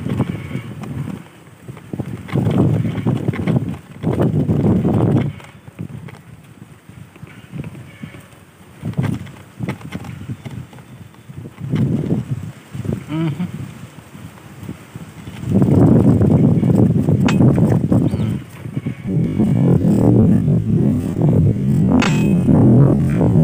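Strong gusts batter the microphone in loud rumbling bursts, easing briefly between blasts, then roaring steadily near the end.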